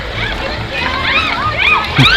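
Water cannons spray and splash riders on a river raft ride at Silver Dollar City in Branson, Missouri, with sloshing water mixed into excited shouting and chatter from close by.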